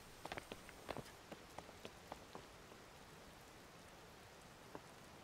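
Rain falls in Zelda: Tears of the Kingdom as a soft, steady patter, with scattered sharper drops tapping a surface, quiet and with no talking.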